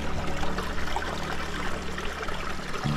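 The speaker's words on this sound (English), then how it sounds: "So I'm just gonna go ahead and step in the water." Stream water swishes and trickles steadily as someone steps into a creek at Leo Carrillo, a close, continuous watery wash with a small splash near the end.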